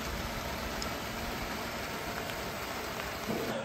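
Rain falls and water runs off the roof of an off-grid workshop in the woods, where solar panels are being installed. The wash of noise is steady and dense throughout, with no voices.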